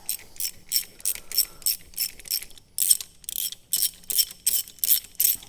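A ratchet on spark plugs of a Ford Fiesta with a 1.2, 1.4 or 1.6 engine gives a dozen or so quick, close bursts of sharp clicking, separated by short pauses.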